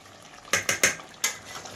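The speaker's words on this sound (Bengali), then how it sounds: "একটু চালাই আগে, যদি কোথাও মশলা ধরে নিয়েছে নিচে।" Fried chicken biryani masala being stirred in a pot: four sharp metallic spoon knocks and scrapes against the pot in quick succession, close and clear over faint background hiss.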